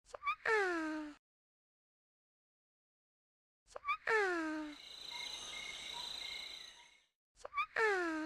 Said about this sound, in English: Everyone can just listen to Pikachu snore for a moment.